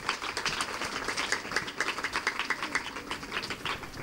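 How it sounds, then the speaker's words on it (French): An audience at a school visit in Congo claps for an absent official, a faint, steady patter of many hands continuing evenly throughout. "On peut applaudir pour lui."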